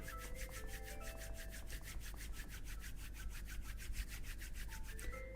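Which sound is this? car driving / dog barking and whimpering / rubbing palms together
rubbing palms together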